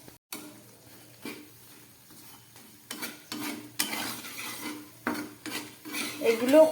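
Savory homemade biscuits fry in a pan while a utensil stirs and scrapes. Sharp metallic clinks and clatters stand out above a soft sizzle, and the sound grows busier and louder toward the end.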